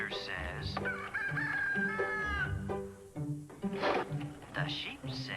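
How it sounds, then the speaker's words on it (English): A rooster crows in a long, strained cock-a-doodle-doo within an airline commercial aired during a 1995 football broadcast, loud and close, with a voice speaking around it. "The rooster says."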